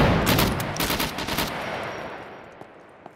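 Gunfire in the survival game Scum (version 0.9) during a PvP fight: a loud, close burst of rapid shots lasting about a second and a half, then a fading tail and a couple of faint clicks.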